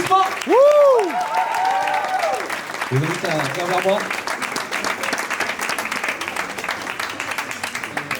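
Applause from a talent-contest audience for a student band, broad steady clapping continuing throughout while a host speaks over it near the mic, with a musical tone rising briefly at the start.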